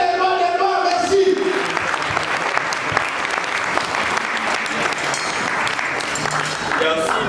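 Sustained applause from a conference audience, a dense steady wash of clapping filling the room, loud and continuous throughout, with a voice faintly heard at the start and end.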